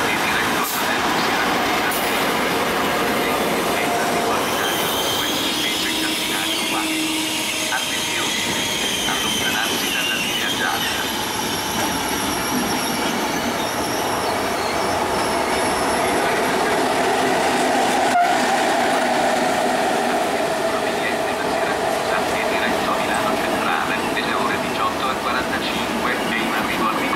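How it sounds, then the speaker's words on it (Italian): A Trenitalia Intercity 727 train, running from Roma Termini to Siracusa, rumbles through Reggio Calabria station, a loud continuous roll of wheels and carriages with a horn-like tone and station echo throughout. "il treno Intercity 727 di Trenitalia, proveniente da Roma Termini e diretto a Siracusa."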